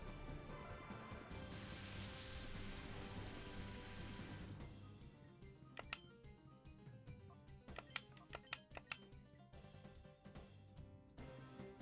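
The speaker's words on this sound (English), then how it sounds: "There's rain in effect." Steady rain hisses through the Pokemon XD: Gale of Darkness battle weather effect, a continuous wash of falling drops under game music, with a few sharp chime-like hits breaking through later on.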